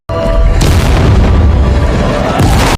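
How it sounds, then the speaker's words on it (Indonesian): A giant mutated octopus blows apart in a monster film after a bomb is pushed into its mouth underwater. A loud, deep booming blast rolls on for about two seconds and then cuts off, with no voices. "Gurita itu pun meledak hancur"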